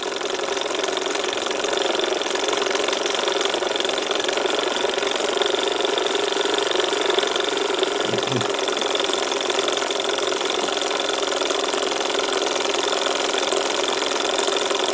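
A Davies Charlton hot air engine runs at raised revs, its gas bottle topped up, giving a steady, continuous mechanical hum and whir that stays even and fairly loud throughout, with a brief low thump near the middle.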